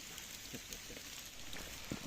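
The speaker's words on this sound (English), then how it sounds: "as you can hear by this rain, it is relentless" Heavy rain falls steadily at a flooded wild campsite, a soft continuous hiss with occasional louder drips and patters nearby.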